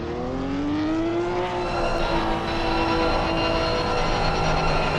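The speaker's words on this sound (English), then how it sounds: "he's holding the brakes here, trying to get the brakes, some heat into the brakes" A Porsche Cup race car at a track in a 2017 series race, holding its brakes to put heat into them, gives a loud, continuous engine drone whose pitch sweeps and wavers, heard close and alone.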